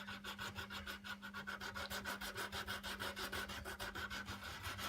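A wooden guitar body for a Telecaster-style kit is hand-sanded with a 60-grit sanding block, steady rhythmic rasping strokes repeating quickly and evenly, close and quiet with no talk.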